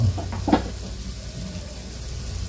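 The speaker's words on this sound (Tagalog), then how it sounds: "pakulo-kuloin lang natin guys ang ating niluluto" Fried fish cooking in tausi (fermented black bean) sauce, simmering in a pan with a steady low sizzle and bubbling, a couple of brief utensil knocks near the start, no voices.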